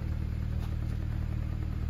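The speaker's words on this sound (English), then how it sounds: "The engine is running." A BMW 135i with a 6-speed idles steadily, a low, even engine hum with a faint rhythmic pulse held close and unchanging throughout, with no voices.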